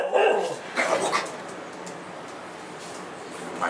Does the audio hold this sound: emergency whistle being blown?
no